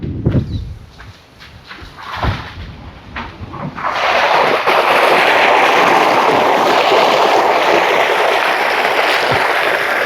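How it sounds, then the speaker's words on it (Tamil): A borewell water pump motor runs at a coconut grove farm near Kovilpatti. Scattered quiet knocks give way to a loud, steady rushing roar of motor and gushing water that continues to the end. "தண்ணியும் நல்லா இருக்குமா இல்லையான்னு நம்ம மோட்டரை போட்டு பார்த்துக்கிடுவோம்"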